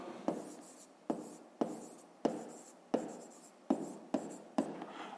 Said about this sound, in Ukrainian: давайте тоді так і запишемо